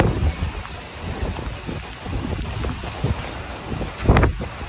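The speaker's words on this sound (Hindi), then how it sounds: "आंधी भी चल रही है, देखो" A strong storm wind gusts hard before rain, buffeting the microphone in uneven rumbling bursts that swell and ease, loud and close, with no talking.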